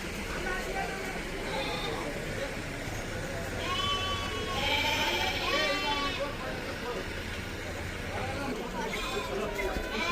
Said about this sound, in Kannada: ಈ ಕುರಿಗಳು ನೋಡಿ ಯಾವ ಥರ ಐತೆ ಸಂತೆ